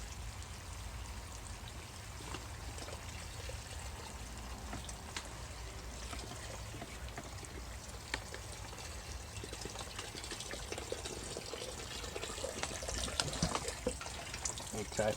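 Old gasoline drains steadily from a car's gas tank as a continuous liquid rush and trickle, fairly faint, with some louder splashing toward the end.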